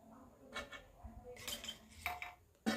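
Whole spices for carrot and bean pulao, such as bay leaf, cinnamon, cloves and cardamom, go into a bowl with a few scattered clinks and light clatters of small items and utensils, close and fairly quiet.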